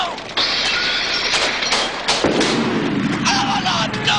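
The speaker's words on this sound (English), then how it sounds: "Louis, more ammo!" Gunfire and artillery sound effects crackle and boom in a one-man stage show, with a loud, dense barrage of overlapping shots and blasts, some sharp and others rumbling, filling the whole stretch.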